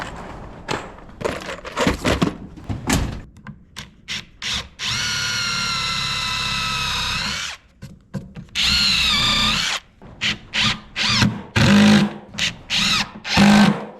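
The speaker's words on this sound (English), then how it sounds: "I actually think I'm going to screw in these two and this one" A cordless power drill drives screws into wood to attach caster mounts, with several long steady whirring bursts broken by short trigger pulses, handling knocks and clunks, close and fairly loud.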